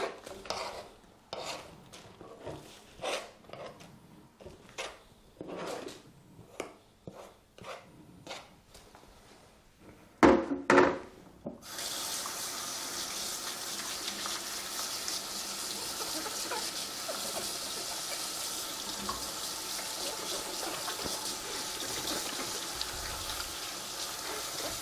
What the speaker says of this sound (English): I'm just gonna wash this cutting board real quick